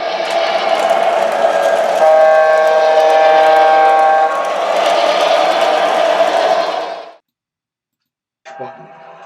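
MTH model trains running on a DCC loop layout, a loud continuous rumble of motors and wheels with sustained horn-like tones for about seven seconds, then abrupt silence and a brief resumed burst at the end.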